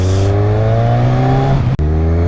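Kawasaki Z1000 motorcycle engine pulling hard to overtake, a steady loud drone of rising harmonics with a brief cut near the end, then the note resumes, heard close from the rider's position.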